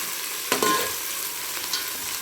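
Tomatoes fry in hot oil for thotakura (amaranth leaf) biryani, giving a brief, close sizzle with a sharp burst of stirring and spattering near the start, then a softer steady crackle.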